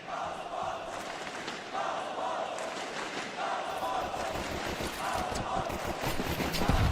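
Roaring esports tournament crowd cheering and shouting in a large arena, a steady wash of voices that swells louder toward the end, with a commentator talking over it.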